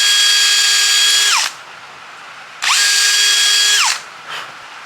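A power drill whirs loudly in two long bursts, drilling through a wooden camphor fishing lure with a shortened bit, pitch dropping as each run winds down, with a brief pause between.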